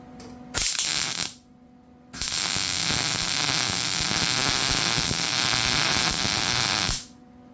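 An arc welder works on the damaged mower deck of a John Deere L110 lawn tractor, with a brief burst of buzzing, crackling arc followed after a pause by a longer steady bead of about five seconds, close and loud.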